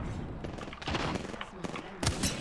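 Rapid bursts of gunfire ring out in an Apex Legends match, with close, sharp shots clustered in volleys and a louder burst near the end, while players talk over the action.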